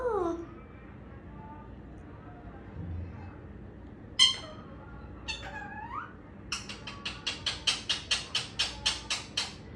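A small child imitates a cat, giving a quick string of about ten short, rising meows near the microphone after a few scattered vocal sounds, with quiet room noise between them.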